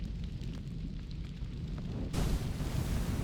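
Torpedo striking a ship in the submarine game Silent Depth 2, a muffled, low rumbling blast that swells abruptly partway through and stays faint and distant.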